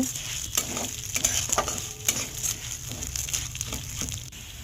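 Masoor and mung dal dry-roasting in a pan, stirred with repeated scraping strokes over a low continuous sizzle, close and fairly quiet.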